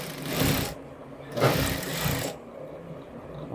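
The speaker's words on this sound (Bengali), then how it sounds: "এখানে আরেকটা সেলাই দেবো, ওটার উপরে উপরেই আরেকটা সেলাই দিয়ে দিলাম" A sewing machine stitches a blouse seam in two short running bursts, the second longer, with quiet pauses between them, close and clear.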